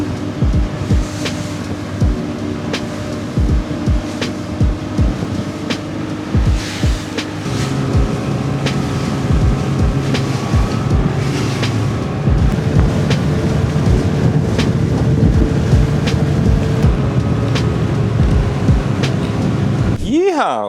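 Boat motoring back across open water at sunset after a solo fishing trip, with a steady engine drone, wind buffeting the microphone and water rushing past the hull throughout.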